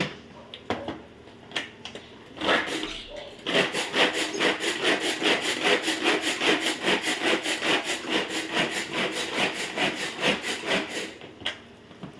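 A knife chops tomato on a board, starting with a few separate cuts and then settling into rapid, even strokes that carry on steadily and close by.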